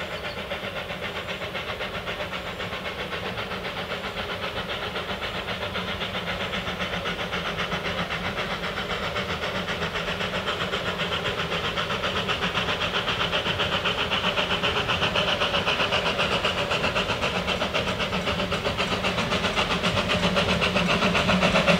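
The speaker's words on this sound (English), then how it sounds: "with the train going at a good pace as it heads towards School Road at Menzies Creek" Puffing Billy steam train running at a good pace near Menzies Creek, a steady rapid chuffing rhythm that grows gradually louder as it approaches, with no talk.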